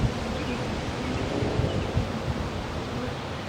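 A dense, steady hum of honey bees buzzing around a hive fills the air, mixed with breezy rustling and low wind rumble, with no voices.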